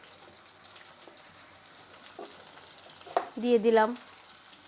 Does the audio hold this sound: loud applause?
no